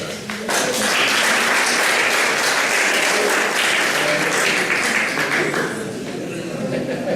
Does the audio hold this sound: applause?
yes